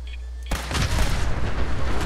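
A loud incoming artillery strike in Fallout 4 slams in about halfway through, a sharp boom that rolls into a long rumbling explosion with scattered crackling debris after a quiet start.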